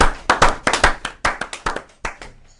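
A man clapping his hands in a sports talk show studio: about a dozen quick, sharp claps at an uneven pace, close and loud, with no talk.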